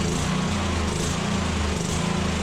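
A donor mower engine meant for a John Deere Z425 zero-turn runs continuously at a steady, close, loud idle with a buzzy, rattling drone and no pauses.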